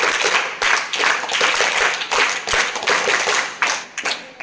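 A classroom of students claps together in a rhythmic, loud series of bursts with brief pauses between, close and strong, with no talking over it.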